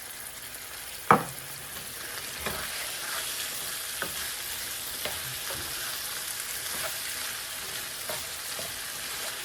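Ground beef with garlic and drained canned mushroom stems and pieces sizzles steadily in a pan, a soft continuous frying hiss broken by a sharp clack near the start and faint periodic stirring scrapes.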